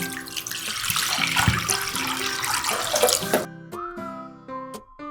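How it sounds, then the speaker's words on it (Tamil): Water poured into a bowl while making tapioca (maravalli kizhangu) chips in a home kitchen, a continuous splashing rush that stops abruptly partway, followed by quieter ringing and tinkling sounds. "இப்போ ஒரு பவுலில் கொஞ்சம் தண்ணி ஊற்றிக்கோங்க."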